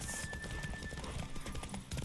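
Horse hooves clip-clop at a gallop in The Witcher video game, a steady rhythmic drumming close by over a dense, noisy game soundscape.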